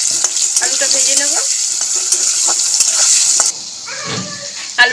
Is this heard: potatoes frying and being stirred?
yes